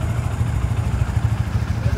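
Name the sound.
Modenas Z15GT motorcycle engine running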